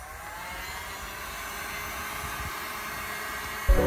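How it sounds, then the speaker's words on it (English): Heat gun blowing hot air on a dented Volkswagen Passat car body panel, a steady close whooshing whir throughout, ending in a short thump. "A quick way to get it out is just use a heat gun, heat that part up, and then just slightly push it out."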